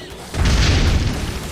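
Explosions in the video game ARK Survival Evolved, on the ARK Omega Fjordur map during a fight, land as a loud, sustained low boom that swells after a brief lead-in and rumbles on for about a second.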